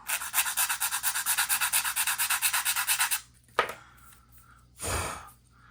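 Hand sanding the hood of an AMT 1970 Dodge Challenger R/T model car with 100 grit sandpaper, a close, rapid, rhythmic scratching of about twenty even strokes, then a single scrape and a brief blowing rush.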